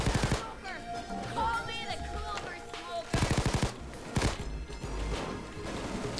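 A Chicago Typewriter Tommy Gun submachine gun in Payday 2 fires in several loud rapid bursts with sharp crashing impacts between them, while someone talks.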